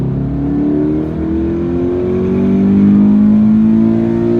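A 2016 Scion FR-S engine revs hard while driving, a loud steady drone that climbs gradually in pitch as it accelerates, heard from inside the car with no talking.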